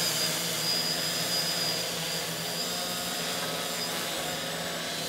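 Quadcopter drone with a NAZA V2 flight controller, its motors running at a steady high whine, close and fairly loud, easing slightly after the first couple of seconds.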